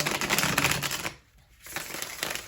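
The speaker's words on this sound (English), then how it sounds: "I love shuffling these cards" A deck of tarot-style cards being shuffled close up, a continuous crisp riffling and rustle that pauses briefly midway before resuming.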